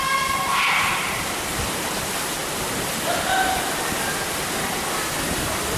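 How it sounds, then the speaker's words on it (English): A little waterfall spills into a koi and goldfish pond beside a hotel swimming pool in Malaysia, making a steady, broad rush of falling water, with faint birdlike chirps at moments and no talk. "It's a little waterfall."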